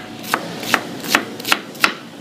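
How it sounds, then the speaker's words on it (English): A knife chops an onion on a cutting board in five evenly spaced, crisp taps, close and clear, with no talk. "And then we're just going to chop, right?"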